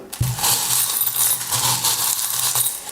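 Small metal charms are dropped and cast for a charm reading, giving a loud, close, continuous clinking jingle as they tumble and settle.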